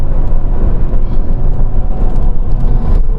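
BMW Z3 M roadster engine running hard at steady high revs, a loud, dense rumbling drone with road and wind roar, no voices.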